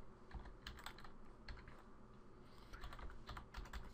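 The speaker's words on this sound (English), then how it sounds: "all you need to do is come to the search box here and type PowerShell" Quick, light keystrokes on a computer keyboard as a word is typed into a Windows search box, a short irregular burst of clicks heard close and faint.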